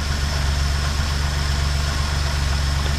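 A 1968 Jeep Gladiator engine idles steadily on a freshly fitted carburetor, a low, even rumble with a constant pulsing throb and no voices over it.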